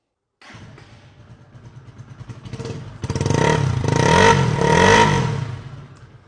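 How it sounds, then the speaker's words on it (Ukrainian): A Lifan motorcycle engine starts with a low, steady putter, then revs up sharply into a loud, throaty exhaust roar that rises and falls before easing off. "в даному апараті досить непоганий вихлоп"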